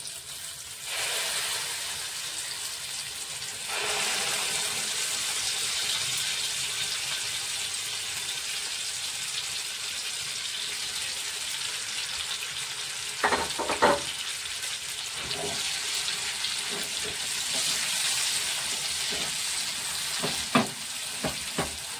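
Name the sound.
chana dal paste frying in hot oil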